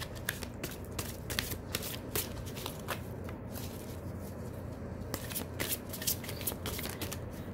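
A tarot-style card pile is shuffled and cards are drawn, a steady run of close, crisp riffling and flicking sounds with light snaps throughout.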